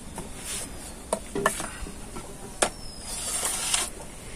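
A spoon works sugar into a paste for homemade sprite, giving soft irregular scraping and clicking against the bowl with a few sharper taps, fairly quiet and without voices.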